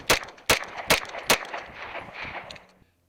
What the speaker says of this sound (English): here's a little bit of bonus footage of me shooting from first person perspective